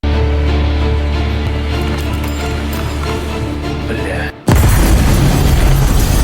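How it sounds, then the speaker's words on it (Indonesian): A grenade explodes in a war film scene, its sudden loud boom cutting off a dense layered soundtrack and leaving a harsh, broadband roar that fills the end of the clip. "hanya butuh satu gerakan untuk menggelindingkan granat ke arahnya"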